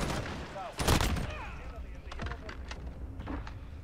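Several stun grenades going off in Call of Duty Modern Warfare multiplayer, a sharp loud burst followed by smaller pops and ringing whistles, close by, with faint voices underneath.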